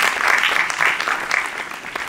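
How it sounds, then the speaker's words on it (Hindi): An audience at a book launch in Chandigarh breaks into loud, dense applause that carries on steadily from start to finish with no pause. "जोरदार तालियां इनके लिए।"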